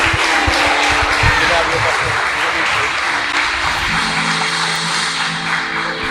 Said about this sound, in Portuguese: Você aplauda ao Senhor em nome de Jesus.